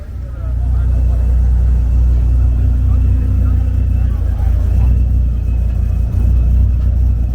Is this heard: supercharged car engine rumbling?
yes